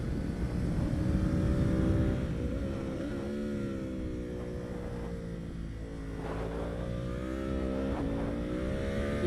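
A sport motorcycle on Bridgestone S20 tyres accelerates hard through the gears, its engine note climbing, dropping at each shift and rising again in a strong, continuous, close-up howl over wind noise.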